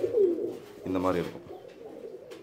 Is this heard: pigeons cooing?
yes